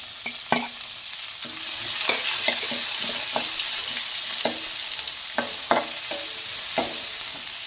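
Onions sizzle in hot oil for tempering with curry leaves and garlic, while a spoon repeatedly scrapes and clacks against the pan in an irregular stirring rhythm, with no talking.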